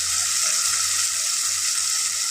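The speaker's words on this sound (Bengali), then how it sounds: "এখন আমরা চিংড়ি মাছগুলো একটু ভালো করে ভেজে নেব যাতে লাল লাল হয়ে যায়।" Small shrimp fry in hot oil, giving a loud, steady, unbroken sizzle that fills the whole moment without any voices.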